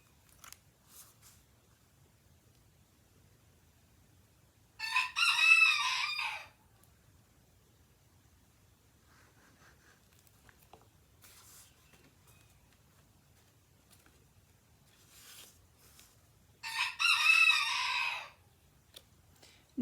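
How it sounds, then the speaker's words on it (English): A visiting rooster crows twice, about twelve seconds apart, each call clear and moderately loud over an otherwise quiet background. "the rooster does not live here all the time. He's visiting today"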